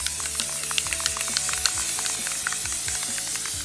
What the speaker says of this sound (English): So I'm spraying on the back side.